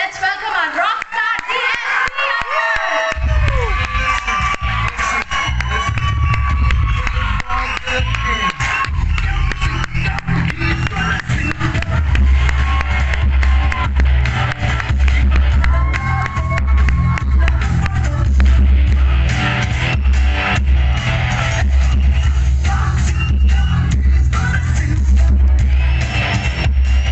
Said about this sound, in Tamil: ஸோ லேடிஸ் அண்ட் ஜென்டில்மென், ஒரு நல்ல கைத்தட்டல். Let's welcome our rock star